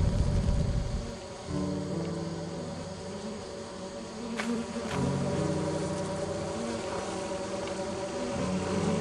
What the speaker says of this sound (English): Ooh, bees.